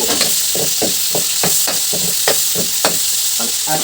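Chopped onions sizzle in a hot pan while a utensil stirs them in a steady series of close scraping strokes, the opening step of cooking pancit.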